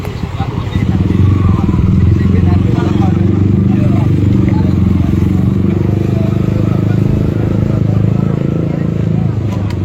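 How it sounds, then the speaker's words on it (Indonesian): Two-wheeled motor vehicles, motorcycles passing along a road during a regional protest, their engines droning loud and continuous with clatter, under a crowd's babble and talk. "yang bisa lewat adalah kendaraan roda 2"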